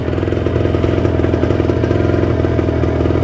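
A Kawasaki Ninja 150 RR two-stroke motorcycle engine warms up at steady raised revs, with a loud, close, buzzing idle and continuous rapid firing pulses throughout.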